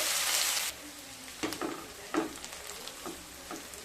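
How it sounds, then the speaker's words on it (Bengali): Sliced large onions frying to light brown in a pan for palak chicken. A loud sizzle hisses briefly, then drops to a quiet crackle with a few soft stirring clicks. "পেঁয়াজগুলোকে হালকা ব্রাউন কালার করে ভেজে নেব।"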